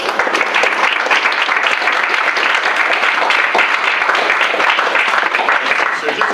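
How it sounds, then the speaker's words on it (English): Sustained, dense applause from an audience at a fireside chat event, steady and fairly loud for the whole stretch, with no clear break or single voice standing out. "please join me in giving a round of applause to our guests here."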